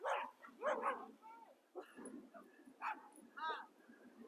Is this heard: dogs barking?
yes